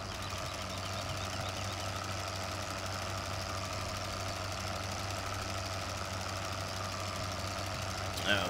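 A tractor engine running in Farming Simulator 2015, a steady mid-pitched diesel drone with a faint knocking texture, continuous and close throughout.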